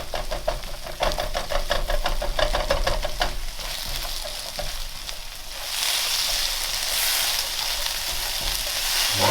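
Bacon and sausages frying in a pan, a loud, steady close sizzle with rhythmic ticking crackle that shifts to a broader hiss partway through, no talking.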